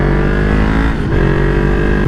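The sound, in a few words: Yamaha MT03 motorcycle engine revving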